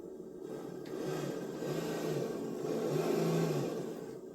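Synthetic engine revving from an RC crawler sound module in a custom Jeep Cherokee XJ build, a steady mid-pitched rumble that swells in two rev rises, close and continuous with no talking.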